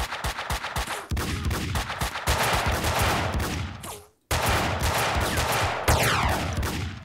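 Gunfire in the video game Max Payne 2: a fast rattle of close shots opens into long, loud sustained bursts, broken by a brief silence before the firing resumes.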